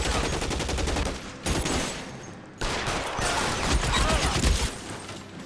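Rapid, dense gunfire from a shootout in L.A. Noire crackles almost without pause for over five seconds, with two short gaps between loud volleys.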